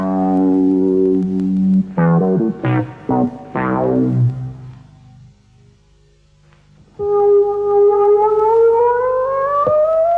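A kaleidophon electronic instrument played by touch, a run of short, bright, clear notes followed by a brief pause and then a long sustained tone that slowly glides upward, loud and close.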